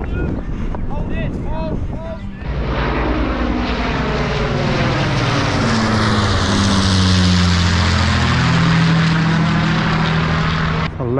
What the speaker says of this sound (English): A Lancaster bomber.